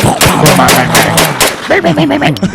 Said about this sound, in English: Have gunshots.